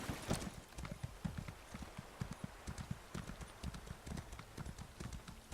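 Hooves clip-clop in a quick, uneven rhythm as a horse moves in Elder Scrolls Online, close and distinct against a quiet ambient background.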